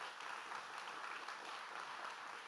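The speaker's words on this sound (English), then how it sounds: "A round of applause for Mayor Johnson." An audience at a leadership forum applauds for a mayor, a faint, even patter of clapping held steadily throughout.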